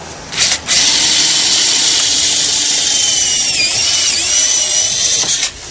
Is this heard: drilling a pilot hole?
yes